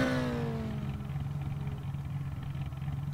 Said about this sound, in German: Oh, ein wunderbarer Motorsound.